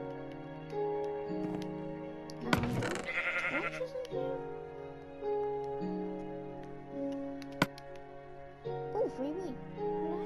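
Sheep in Minecraft bleat a few times against background game music, with a person talking over parts of it.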